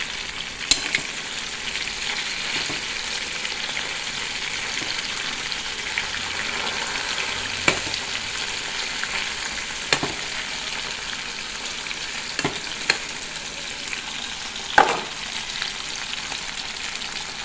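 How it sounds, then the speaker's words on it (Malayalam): Chicken frying in a pan gives a steady, even sizzle that runs the whole time, broken by occasional light clicks and taps of a utensil, with no talking. "അങ്ങനെ ചിക്കൻ പൊരിക്കാട്ടോ കേട്ടോ"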